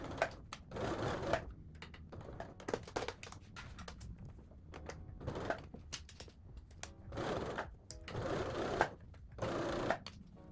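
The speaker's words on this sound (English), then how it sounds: "as you attach your bias tape that you are sewing at a big enough seam allowance" A sewing machine stitches bias tape onto a V-neckline in several bursts of rapid, close mechanical chatter separated by short pauses.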